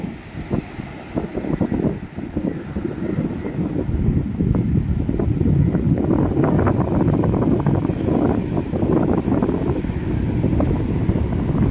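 Steady cool wind buffeting the microphone at Chowpatty beach by the sea, a continuous low rumbling roar with faint surf beneath it throughout.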